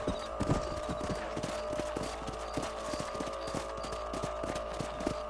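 Horse hooves clip-clop in a steady, brisk rhythm on a Red Dead Redemption ride, with a constant ambient bed of wind and game sound underneath throughout.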